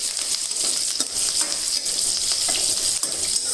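Green chillies and ginger fry in a pan of hot oil with mustard seeds for a watermelon curry, giving a steady, close, loud sizzle with faint stirring ticks throughout and no voices.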